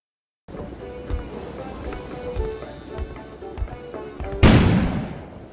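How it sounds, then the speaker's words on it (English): A sudden loud explosion bursts outside in the video game Kona, with a deep rumbling blast that slowly decays, following several seconds of low, rhythmic thuds and ambient wind. "An explosion suddenly occurred outside."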